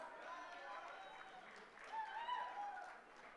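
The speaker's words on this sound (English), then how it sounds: "Please give them a round of applause." Audience applause at a university convocation, a faint, distant patter of clapping that swells briefly near the end amid the hall's ambience.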